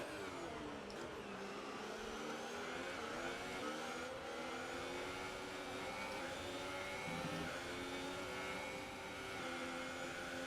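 Race car from the F1 2018 video game, heavy and hard to drive, with a continuous loud engine drone and rising, falling revs through the whole stretch, no talking over it.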